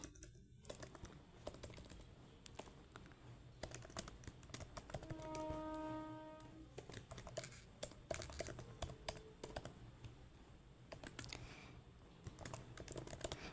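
Rapid keyboard typing continues throughout as code for a Java main method and scanner is entered, quiet, close clicks in uneven bursts with no voice.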